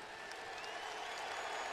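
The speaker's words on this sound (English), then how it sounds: "Eddie House hears it from this crowd. A standing ovation." A basketball arena crowd gives a standing ovation during a 2009 Magic vs Celtics game, with steady, sustained applause and cheering that sounds slightly distant and holds evenly throughout.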